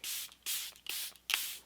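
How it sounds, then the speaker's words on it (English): Makeup setting spray hisses from a pump bottle onto a face in four close, crisp bursts, each a short airy spritz separated by brief pauses, with no voices. "I'm just gonna give it a shake and I'm gonna spray my whole face with this"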